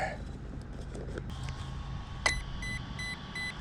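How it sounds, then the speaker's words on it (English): The speed controller of an Arrma Typhon RC car with a Mega 550 brushless conversion beeps as a CNHL battery pack connects: a series of short, faint, high electronic beeps over steady traffic rumble. "Four beeps, there you go."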